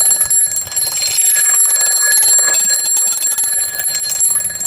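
Loud, close, continuous metallic ringing from an Efinito steel twin bell alarm clock, its rapid hammer-on-bell clatter sustained throughout with slight wavering in strength.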